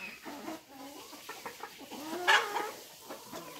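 Young roosters cluck and chatter softly at a poultry pen, with scattered short calls and one brief louder squawk amid a low, busy background.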